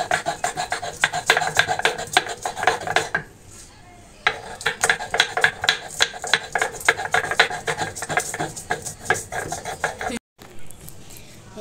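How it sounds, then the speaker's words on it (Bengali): Whole spices ground by hand on a flat grinding stone (pata): steady, close rhythmic rasping strokes of stone scraping over stone and spice, with two brief pauses between runs of grinding. "গোটা মশলা এখন আমি বাটবো পাটায়"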